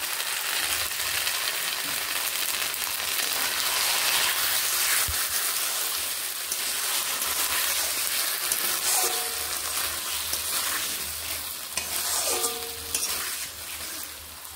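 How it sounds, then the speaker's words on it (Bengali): Onion and potato frying in a pan as a ground spice paste goes in, a constant loud crackling sizzle with occasional stirring clatters and a brief knock, close up, no talk. "পেঁয়াজ ও আলু ঠিক এইরকমভাবে ভাজা হতেই আমি যে মশলা নিয়েছিলাম সেই মশলাটি এখানে দিয়ে দিচ্ছি"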